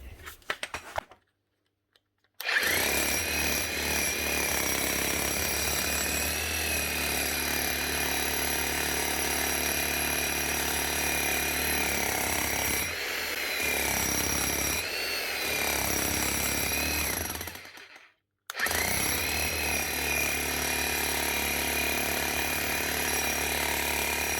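A Hilti TE905AVR rotary hammer drill under repair pounds continuously at close range with a steady buzzing rattle, stopping briefly near the start and again toward the end.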